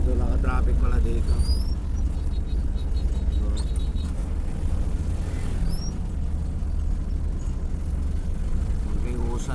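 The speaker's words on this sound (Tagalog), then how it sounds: "Ito naka-traffic pala dito." A Philippine road jammed with standstill morning traffic on the way to Pandi, Bulacan: a steady wash of idling engines and car noise, with faint horn-like tones over the rumble and talk underneath.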